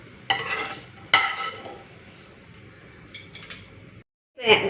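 Roasted ginger stirred in a pan with a spoon for Kerala puli inji, a few sharp scraping clinks and soft stirring noises close by, ending with a brief scoop after a short gap.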